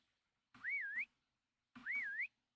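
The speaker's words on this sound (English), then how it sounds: "every time I press that button, it whistles up" Two separate rising-and-falling synthetic whistles, each about half a second long, sound clearly from a Minecraft FTB Plexiglass Mountain modpack as a key is pressed, with silence between them.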